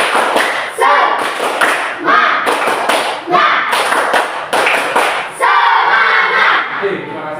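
Standing elementary schoolchildren perform a spirit clapping chant, a rhythmic series of loud group claps and stamps alternating with shouted chanting, energetic and close in a classroom.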